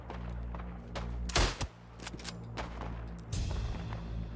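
Rifle and machine gun fire in the World War I video game Isonzo: scattered sharp shots and short bursts at middle distance, fairly faint, over a low rumbling background.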